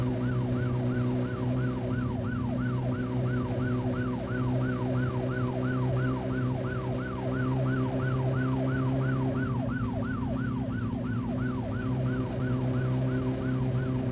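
Police sirens wail in the driving game My Summer Car, a loud, steady rising-and-falling electronic siren repeating in quick cycles over a constant engine drone, with no talking.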